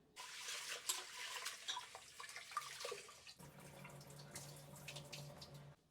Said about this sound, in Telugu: కందిపప్పుని అయితే టూ టైమ్స్ మంచిగా వాష్ చేసుకున్నా